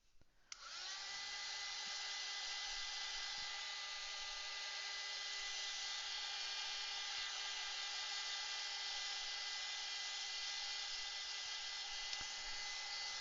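A hair dryer runs steadily at close range, drying fresh paint on a cutie figure piece, a constant high whir starting after a brief click and holding level with no talk.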